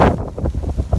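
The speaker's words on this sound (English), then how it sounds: "We got a couple of big gusts coming up." A strong gust of wind in a blizzard with heavy snow in West Yarmouth, Massachusetts, buffets the microphone with loud, rumbling, pulsing roars across a short one-second stretch, without speech.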